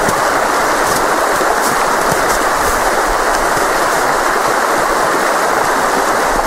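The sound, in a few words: Sørelven river flowing in spring thaw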